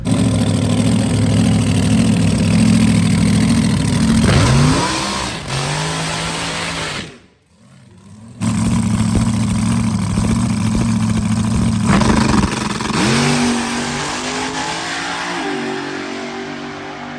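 Supercharged Outlaw drag race car idling loudly with a heavy rumble, then revving and pulling away hard, with a brief drop-out partway through before the engine noise returns and climbs through rising revs.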